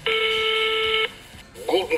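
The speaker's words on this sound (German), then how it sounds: "Freizeichen." A steady telephone tone rings over a speakerphone, one long beep lasting about a second, then stops, and a voice begins to speak afterward.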